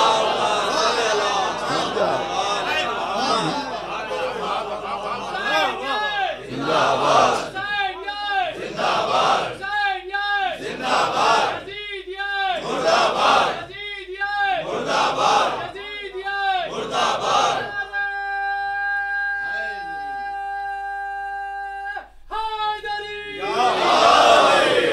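A large congregation at a Fatimiya majlis recites salawat together in loud, rhythmic chanted bursts, each phrase answered in unison, ending in a long sustained group tone before a final shout.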